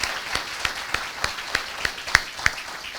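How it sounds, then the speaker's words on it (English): Sparse, distinct hand claps ring out at a steady rhythm, about three per second, for school board members at a school address, with a few sharper louder claps among them. "let's give them another round of applause"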